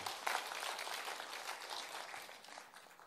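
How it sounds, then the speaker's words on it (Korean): An audience claps enthusiastically at a lecture, a steady wash of applause that holds for the whole stretch and fades slightly toward the end. "다시 한번 신나게 박수."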